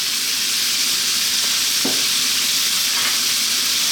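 Pork with ginger, garlic and carrots stir frying on very high heat, a loud, dense, continuous sizzle with faint scraping from the stirring and no talking.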